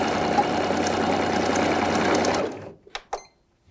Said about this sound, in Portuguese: Dois, três pontinhos, faço o meu retrocesso e vou costurando.